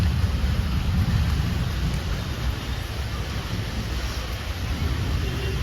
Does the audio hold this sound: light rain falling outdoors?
yes